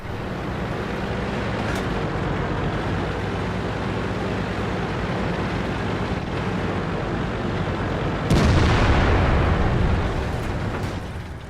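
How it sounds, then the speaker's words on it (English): A tank gun fires a HEAT shell in a video game, hitting the rear of a KV-5: a sudden loud blast cuts through a steady, heavy rumble of engine and battle noise, then slowly fades. "puts a lovely shot into the rear of the KV-5, penetrating with a 330mm of heat ammunition"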